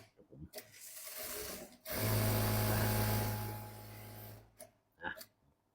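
A JACK A4C industrial sewing machine stitches a printed T-shirt in a long continuous run, a close steady mechanical whir with a low hum that lasts about two seconds, framed by short handling clicks and rustling fabric.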